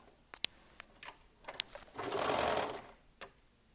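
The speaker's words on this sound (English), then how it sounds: "And I am doing all of this on my serger." A serger sewing machine stitches curved fabric seams, with a short whirring run of rapid stitching in the middle framed by isolated clicks and taps of handling, close and fairly quiet.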